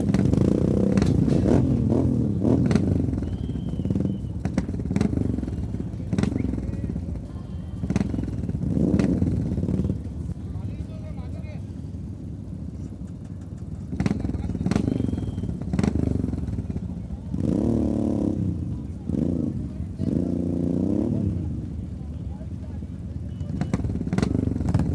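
Royal Enfield motorcycles rumble and rev on the grid at a race start, a steady loud engine roar with rising revs throughout, while an announcer talks over a public address.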